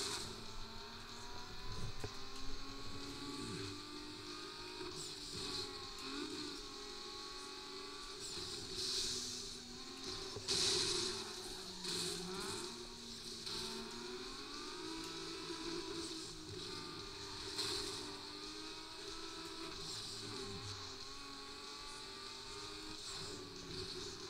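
A car drives in Need for Speed Underground 2, its engine droning steadily with rising and falling pitch over a constant hum, fairly faint throughout with no talking.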